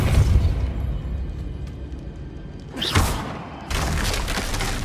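A Depulso force spell fires in the video game Hogwarts Legacy over a low rumbling game background, giving a sharp burst near the three-second mark, followed by a sustained louder crashing wash of noise.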